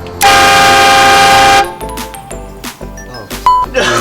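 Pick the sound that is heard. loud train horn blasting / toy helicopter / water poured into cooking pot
loud train horn blasting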